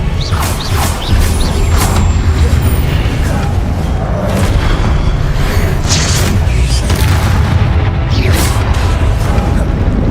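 Fiery Confringo spell blasts in the Hogwarts Legacy video game, a dense run of loud booms and crashes layered with bursts and clattering combat effects, continuous and close.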